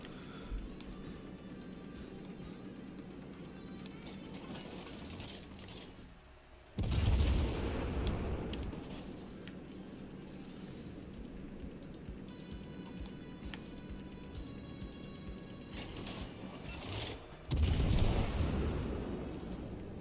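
Naval gunfire in World of Warships Legends: two heavy, booming salvos about ten seconds apart, each a loud low blast decaying over a rumbling battle background.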